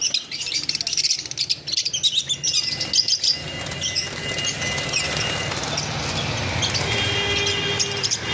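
Caged pet birds for sale, including lovebirds, cockatiels and java sparrows, chirp and tweet in a busy cluster during the first few seconds. A steady mechanical hum and rumble then takes over, with a voice faintly underneath.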